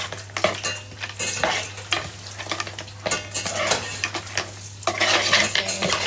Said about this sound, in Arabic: هلا رح اخلط